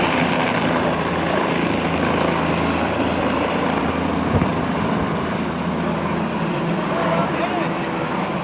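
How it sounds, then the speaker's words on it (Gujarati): A helicopter engine runs at full speed before takeoff, a loud, steady, continuous whine and drone that fills the whole stretch without letting up. "ફૂલ સ્પીડે ચાલુ થઈ ગયું હતું હેલિકોપ્ટર"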